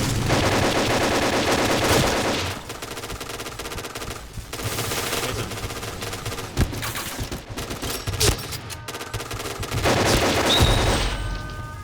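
AK-12 assault rifle fire in the shooter game Point Blank: loud, sustained automatic bursts with brief gaps between volleys, no talking.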